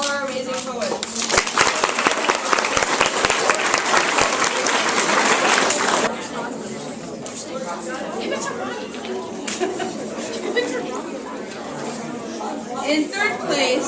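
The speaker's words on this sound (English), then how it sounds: "Let's have a round of applause for all our amazing poets." Loud, dense applause from a crowd at a middle school poetry slam fills the first six seconds, then fades into scattered clapping and murmuring chatter.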